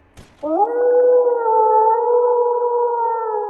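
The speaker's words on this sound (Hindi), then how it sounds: "ये किस चीज़ की आवाज़ थी? लगता है आस-पास शायद भेड़िया है।" A single sustained howl rises quickly after a faint short sound, then holds a steady, loud, clear tone for about three seconds before cutting off, with no talk.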